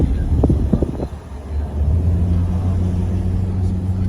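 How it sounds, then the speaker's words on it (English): A car engine grinds up a steep hill in Jamaica, a deep, steady, fairly loud rumble with a few short knocks near the start. "you need a serious car to come up them hill here, man"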